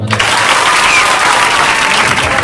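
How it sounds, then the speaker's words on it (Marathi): Loud audience applause at an inaugural ceremony of the Dr. Panjabrao Deshmukh birth anniversary celebration, dense sustained clapping from a large crowd filling the whole moment. "सर्व लाडक्या बहिणींनी सर्व लाडक्या भावांसाठी एकदा जोरदार टाळ्या वाजवा"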